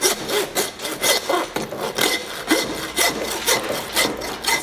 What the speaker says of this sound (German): Irgendwann könnt ihr hier nicht mehr so schräg sägen, dann sägt jetzt von der Seite hier weiter. An den Rippen entlang.